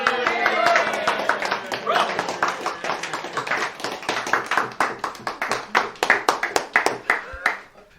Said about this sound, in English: Need a round of applause,